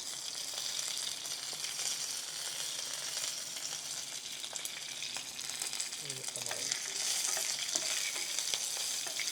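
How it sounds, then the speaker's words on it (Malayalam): Dried red chillies and curry leaves fry in hot oil for a mustard mango pickle, giving a steady, close sizzle that swells slightly toward the end, with no talking. "നമ്മൾ ഈ കറിവേപ്പിലയും കൂടി ഇടുകയാണ്."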